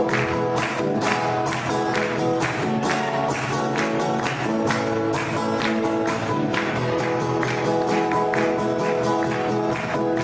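Audience at a folk festival clapping along in steady rhythm to a live song, the claps blending with music and voices throughout.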